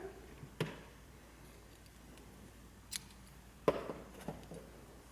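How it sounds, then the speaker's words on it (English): Scissors snip through yarn at the end of a crocheted snowflake placemat round. Four short, sharp, separate cuts sound close-up against a quiet room. "And go ahead and fasten up, cut your yarn."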